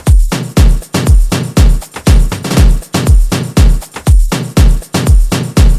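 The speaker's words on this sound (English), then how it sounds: "I will show you the drums for this track, which together sound like this." An Afro house drum loop in a melodic house style: punchy kicks hitting in a steady, evenly spaced four-on-the-floor rhythm with layered percussion and hats between them, loud and upfront, with no voice.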